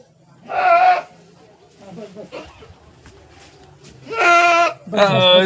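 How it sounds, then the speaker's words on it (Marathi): A goat bleats loudly nearby, once at the start and twice near the end, with quiet murmuring voices in between. "आपली शेळी आरडत आहे"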